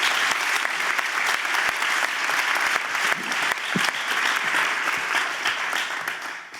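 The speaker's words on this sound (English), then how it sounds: "So let's applaud once again to Oliver Amen for this award." An audience at a high school senior awards night applauds in a dense, steady wash of clapping that holds at an even, fairly loud level before easing slightly at the end.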